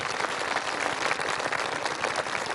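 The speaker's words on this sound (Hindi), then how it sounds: "ताली बजाएंगे" An audience at a Brahma Kumaris land-worship and dedication ceremony claps together in a steady burst of applause that lasts the whole moment, with no voices over it.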